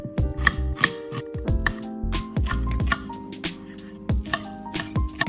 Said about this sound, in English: Slice the onion thinly and chop the scallion.